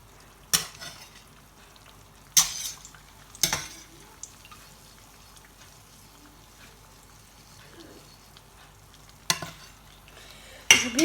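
Cooked potatoes being shaken in frying oil, with a soft hiss under several sharp clattering jolts of the pan spaced across the clip and a louder burst at the end.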